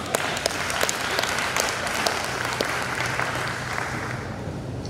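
A live audience at an organisation's event breaks into sustained applause, a dense wash of many hands clapping at moderate distance that holds steady for several seconds.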